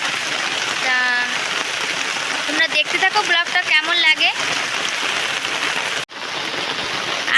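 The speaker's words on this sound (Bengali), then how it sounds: "আসা মাত্রই এখনই বৃষ্টি শুরু হয়ে গেছে" Steady rain hisses and patters throughout on an okra vegetable garden in the Andaman Islands, loud and close, while a person talks over it for a few seconds.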